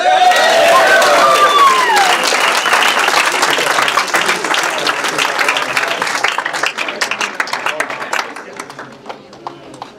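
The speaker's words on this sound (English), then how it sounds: "big round of applause for Clarence White once again" An audience at a real estate auction bursts into a big round of applause for Clarence White. A voice talks briefly over the opening as the dense clapping swells, then thins and fades toward the end.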